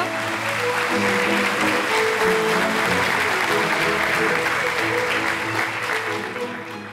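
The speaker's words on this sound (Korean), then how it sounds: "박수로 맞아주시죠." Audience applause at a Korean civic inaugural rally as a speaker is welcomed to the stage, a dense, even clapping wash holding steady for several seconds, with faint murmured voices beneath.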